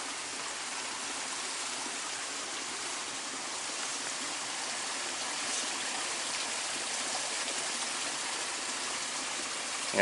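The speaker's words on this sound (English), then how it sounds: "you can hear the water coming out of that culvert" Steady broadband rush of water pouring out of a culvert beside a farm field, continuous and fairly loud with no pauses, no talking over it.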